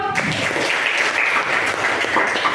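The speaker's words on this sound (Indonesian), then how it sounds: "Iya, tepuk tangan dong." Classroom applause from students, a steady burst of many hands clapping at close range that runs without a break.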